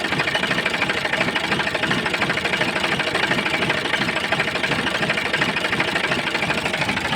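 An old 50 horsepower four-wheel-drive New Holland 4710 tractor engine idles steadily and close, a continuous rattling diesel drone with a fast, even knock and no break or change in level.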